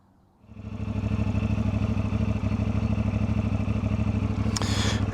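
A CFMoto 450MT motorcycle engine starts and settles into a loud, steady, close-up idle with an even, rapid throb, and a brief higher-pitched clatter comes near the end.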